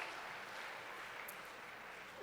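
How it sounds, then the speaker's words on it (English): A school band concert audience gives parents a round of applause, a faint, distant, even patter of many hands clapping throughout. "students, we should give the parents a round of applause"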